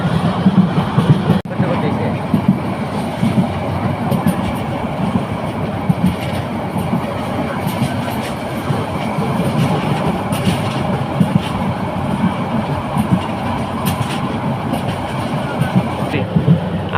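Train rolling into Cox's Bazar railway station, a steady loud rumble of wheels on rails with clickety-clack and occasional brief squeals throughout, heard from onboard with voices faintly under the noise.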